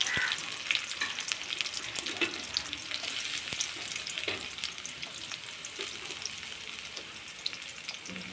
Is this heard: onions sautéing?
yes